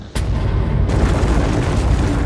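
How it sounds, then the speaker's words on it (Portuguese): A deep explosion effect standing in for a supernova bursts in suddenly and swells into a loud, sustained rumbling roar that fills the whole moment. "Apenas uma pequena minoria das estrelas explodem, mas quando acontece fazem kabum! E explodem em 1000 pedaços."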